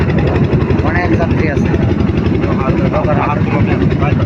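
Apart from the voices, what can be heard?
fishing boat engine during a river crossing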